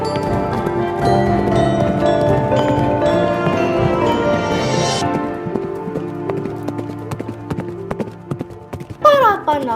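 Trained horses being ridden clip-clop in a steady rhythm beneath loud music and a voice talking, with a brief burst of sound effects near the end.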